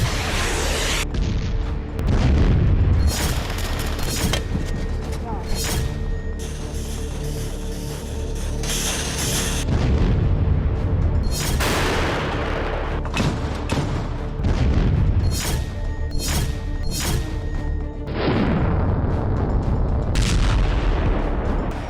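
Heavy booms of artillery, tank and mortar fire in the Ukraine war, repeated loud blasts with rumbling echoes, some closely spaced, others separated by quieter stretches.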